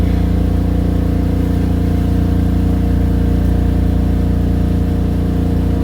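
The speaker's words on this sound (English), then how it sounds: "Apologize for the loud noise of the heater." Loud, steady low rumble and hum of a gas furnace running continuously in an RV camper, droning without pause and filling the space.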